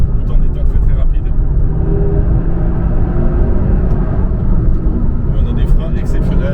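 Renault Megane 4RS Trophy R on a fast, bumpy track, with a steady loud engine drone and road rumble throughout, heard from inside the car, with faint voice-like traces over it.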